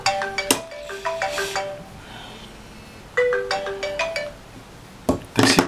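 A phone ringtone plays for an incoming call while trying to book a taxi in Odesa, bursting out in repeated melodic phrases with short pauses between them, fairly loud and close, with no talk over it.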